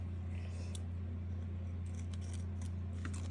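Scissors trimming paper for a handmade card, a few soft, short snips over a steady low hum, close and fairly quiet.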